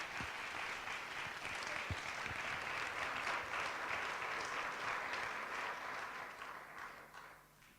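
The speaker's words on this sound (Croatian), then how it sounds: "Jedan aplauz" An audience breaks into sustained applause at a stage event, a dense crowd of clapping hands holding steady, then tapering off toward the end.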